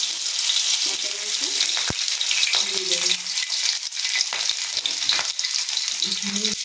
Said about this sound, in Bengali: তেল গরম হয়ে গিয়েছে। এবার আমি হাতে করে আদাটা দিয়ে দেবো